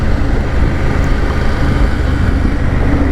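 BMW 850GS motorcycle engine accelerating on a ride, a loud continuous low drone mixed with heavy wind buffeting on the microphone.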